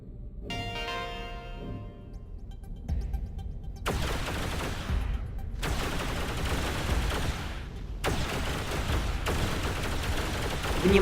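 Space combat in the video game X3 Albion Prelude, with weapons firing in dense, loud bursts that break into several separate barrages. An electronic tone at the start gives way to near-continuous gunfire-like blasts.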